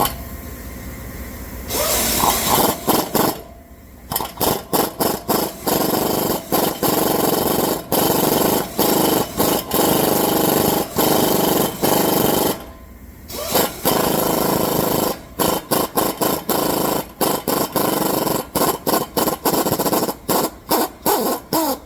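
An impact-style power tool with a swivel socket hammers on the lower ball joint of a 2012 Hyundai Tucson, loud rapid bursts repeatedly stopping and restarting in short triggers, with two longer pauses between runs.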